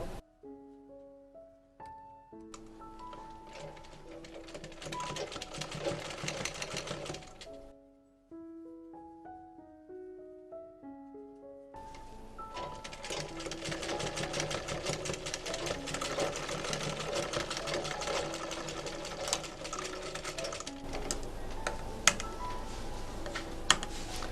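Sewing machine stitching along the folded edge of a cloth face mask, a steady fast mechanical whir in two long runs separated by a brief pause, loud and close with no talking.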